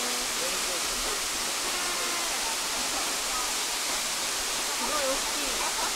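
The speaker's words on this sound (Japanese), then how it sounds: "美濃の滝です。" Minoh Waterfall in Osaka pours in a steady, broadband rush of falling water that fills the whole span, with crowd voices faintly mixed in beneath the roar.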